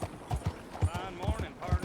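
Galloping horse hooves in Red Dead Redemption 2, a rapid, loud drumming of hoofbeats close by, with a brief voice in the mix.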